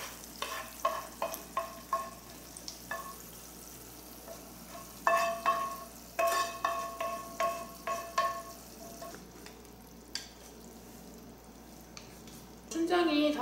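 Chunjang black bean paste stir-frying in oil in a wok, a steady sizzle broken by a run of regular stirring scrapes and clinks, close and moderately loud, with no speech.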